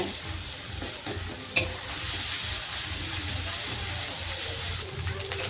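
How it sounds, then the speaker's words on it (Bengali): Onion, garlic, ginger and cumin paste fries in a pan with a steady soft sizzle, a brief scrape or clink of stirring partway through, continuing evenly throughout. "পেঁয়াজ রসুন আদা খুব ভালো করে ভাজা হয়ে গেছে"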